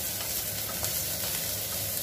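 Food sautéing in a pan in a home kitchen gives a steady, close sizzle that hisses without a break, with no voices over it.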